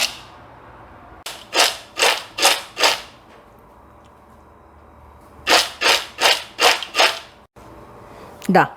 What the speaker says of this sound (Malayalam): ഇതിപ്പോൾ നമുക്കൊന്ന് മിക്സ് ചെയ്ത് കൊടുക്കാം